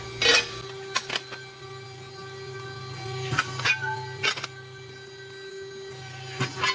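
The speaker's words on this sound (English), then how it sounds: "I'll bend apart with you guys, just to show you how easy it really is to run this machine" An 80-ton 1.6 m CNC press brake bending a part, with a few sharp metallic clanks and thumps spread across a steady machine hum, close and fairly loud, no talking.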